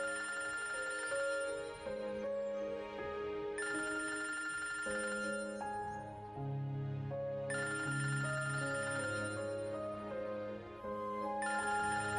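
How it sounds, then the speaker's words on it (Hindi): A mobile phone ringtone melody rings steadily from another room of a home, repeating its tonal pattern across the whole stretch, moderately faint and heard alone with no talking. "ये किसका मोबाइल बज रहा है?"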